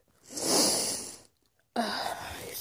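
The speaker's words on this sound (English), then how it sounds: "I sneezed a bunch." A person sneezes twice: a loud, breathy first sneeze trailing off, a brief silence, then a second sharp sneeze, close up with no talk.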